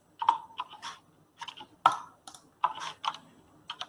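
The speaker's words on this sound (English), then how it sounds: "for some reason, my keyboard does not work" Computer keyboard keys are being typed in short irregular bursts of clicks with brief pauses between them, close and fairly quiet.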